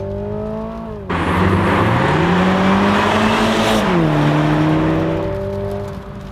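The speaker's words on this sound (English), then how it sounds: "I'll just put it in sports now and accelerate a bit" A 2021 Toyota GR Supra 2.0-liter engine revs up hard in sport mode and roars steadily as it accelerates, the pitch climbing then dipping, loud and close.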